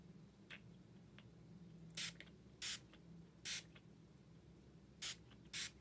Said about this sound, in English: on the other side, we are going to use the subli-tee spray